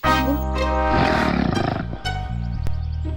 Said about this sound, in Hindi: ये खर्राटो की आवाज है,